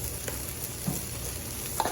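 Ingredients for Cajun pasta sizzling on a hot Blackstone griddle, a steady close hiss with a few soft clicks of stirring, no talking.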